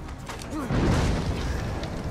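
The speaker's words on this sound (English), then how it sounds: "Before getting hit by exploding barrels." Explosive barrels blowing up in Middle-earth: Shadow of War, heard as a deep, rumbling boom that swells about halfway through and keeps a heavy low roar to the end, with game noise around it.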